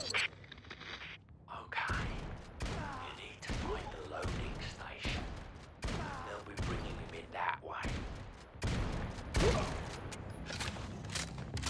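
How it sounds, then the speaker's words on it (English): Gunfire from shooting enemies in the game Necromunda: Hired Gun, a run of sharp repeated bursts across the whole stretch, loud and close, mixed with talk and game noise. "Shooting guys on ladders is a bit janky."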